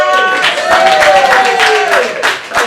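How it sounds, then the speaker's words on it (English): Audience clapping and cheering for a stand-up comedy host at Village Underground, a dense, steady wash of applause lasting the whole moment with whoops and a sustained voice riding over it. "clap it up for your host"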